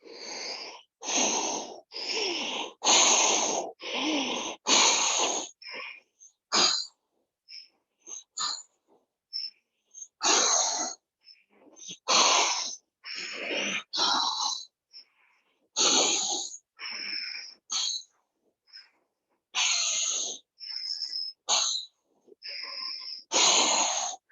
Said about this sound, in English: Round 4, 30 breaths.